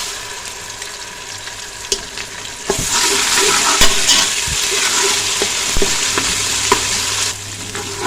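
Steady, loud sizzling of ginger garlic paste frying in a hot pan, with occasional scraping stirs and a sharper burst of crackle midway.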